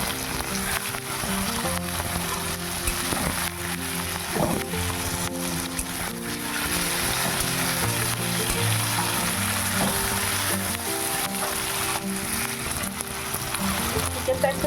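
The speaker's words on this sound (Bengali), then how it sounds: "পেঁয়াজটা একটু ভাজা ভাজা হতেই দিয়ে দিচ্ছি চিকেনটা" Chicken dropped into lightly browned onions in a hot pan keeps up a steady, close sizzle and crackle, with background music playing throughout.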